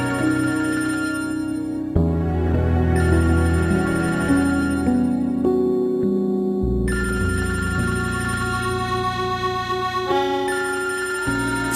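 A mobile phone ringtone plays loud and continuous, a melodic electronic tune with changing notes throughout, with no talking over it.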